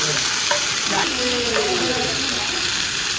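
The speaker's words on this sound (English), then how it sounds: "I'm stir frying my beef for my beef salad. Sizzling away." Loud, continuous sizzling of beef stir frying in a hot pan, a constant crackling hiss with faint voices underneath.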